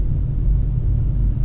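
Trucks driving on an alternative road ahead on the Lintas Timur route between Bakauheni and Ketapang, heard as a heavy low rumble of engines and road noise, steady and close.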